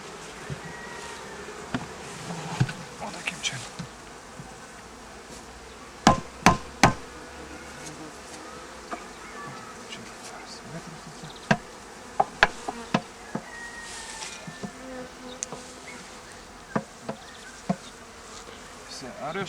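Dense, steady buzzing of a honey bee swarm close by, with scattered sharp knocks and taps of wooden frames against the hive.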